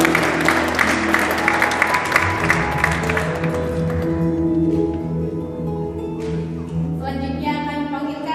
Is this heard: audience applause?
yes